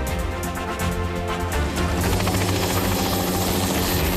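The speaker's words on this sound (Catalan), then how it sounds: "L'helicòpter és la millor forma de fumigar contra uns insectes" A helicopter flying low while spraying insecticide against mosquitoes from the air, its rotor a loud, steady throb with rhythmic blade chop and engine whine that swells slightly partway through, no talking.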